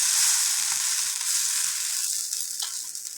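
Dhapata flatbread fries in oil on a hot griddle, giving a steady, close, bright sizzling hiss that eases slightly toward the end with faint crackles.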